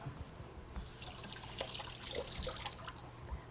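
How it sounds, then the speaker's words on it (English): Running tap water splashes over tomatoes being rinsed for an Italian encrusted chicken salad, a steady, fairly faint trickle with small drips and splashes throughout. "just give these tomatoes a rinse"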